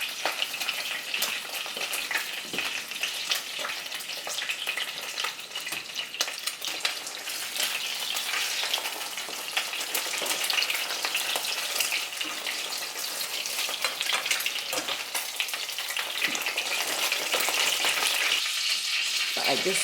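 Food frying in hot oil in a home kitchen, a dense continuous crackling sizzle held close and fairly loud throughout, with faint clinks now and then.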